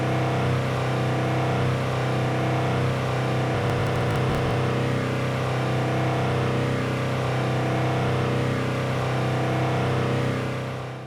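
A car engine sound loop plays back in EngineLoopCreator, giving a steady, loud, continuous engine drone with a constant pitch throughout and no voices.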